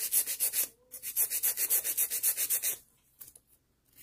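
A nail file rasps in rapid, even back-and-forth strokes along the free edge of a stiletto nail being reshaped to almond, close and fairly loud, then stops, leaving a few faint scrapes.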